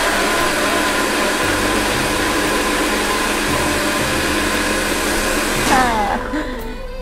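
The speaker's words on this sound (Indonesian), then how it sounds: "kita kisar hingga halus" Kitchen blender grinding ingredients with a little water into a smooth paste for a pineapple and salted fish coconut curry, a loud steady motor whir throughout that falls in pitch as it switches off near the end.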